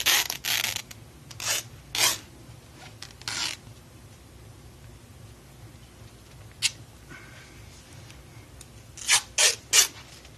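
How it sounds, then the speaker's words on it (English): Adhesive tape strips are pulled off and pressed onto a foot while taping the plantar fascia, heard as short, close ripping and rubbing bursts separated by quiet gaps, with a cluster of quick tears near the end. "Then I move across one length of tape."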